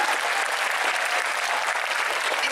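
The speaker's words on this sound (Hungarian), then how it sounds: "Taps!" Dense, steady audience applause at a cosplay convention, loud and continuous throughout.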